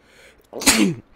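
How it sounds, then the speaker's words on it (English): A single sharp, loud sneeze from a person sitting close to a microphone, short and explosive, preceded by a faint intake of breath, with no speech. "you guys got to hear my lovely sneezes"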